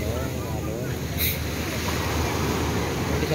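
Ocean waves rolling onto a sandy beach at a resort, a constant loud wash of surf and wind noise filling the clip without pause.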